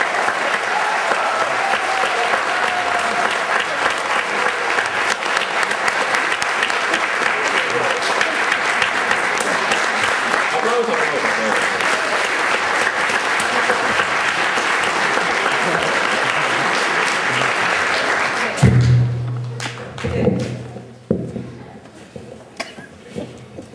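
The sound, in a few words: audience applause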